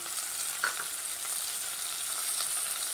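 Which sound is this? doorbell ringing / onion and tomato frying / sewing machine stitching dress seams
onion and tomato frying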